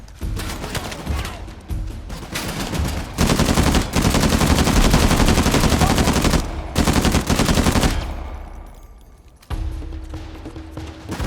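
Sustained mounted turret gunfire in the Uncharted video game, loud rapid bursts that swell and hammer continuously, with brief pauses between volleys and explosive impacts.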